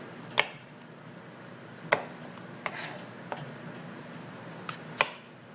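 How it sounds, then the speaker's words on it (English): Knife chopping apples into chunks on a cutting board, a handful of sharp, isolated thunks spaced irregularly over a quiet room background, no talking. "So you really want to put your apple down on the board so that we get chunks like this."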